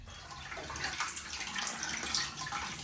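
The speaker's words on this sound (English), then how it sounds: "I'm just dumping the water out now" Dirty water flushed from home radiators during a boiler powerflush is poured out, a steady, fairly quiet gushing splash lasting a few seconds.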